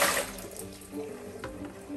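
Tap water runs during house cleaning as a bucket of cleaning water is changed, a steady splashing wash in the room with some shifting gurgles, loud and close, with no talk.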